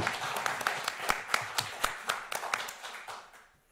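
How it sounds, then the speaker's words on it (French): An audience applauds at a museum art-science evening, with a sparse scatter of individual claps in an uneven rhythm that tapers off toward the end. "Et je pense que ça mérite des applaudissements."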